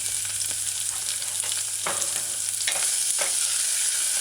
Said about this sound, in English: Alright, so stir fry it a little bit.